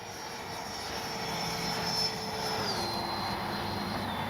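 A Freewing F-18 90mm electric ducted fan RC jet flies overhead with a continuous loud whine, the pitch dropping as the throttle eases back, heard alone without talk.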